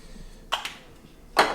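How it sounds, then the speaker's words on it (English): Non-stick cooking spray is sprayed into a pan before cooking egg whites for an omelet, giving two short, close hissing bursts separated by a brief pause. "little non-stick spray."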